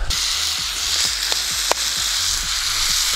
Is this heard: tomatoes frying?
yes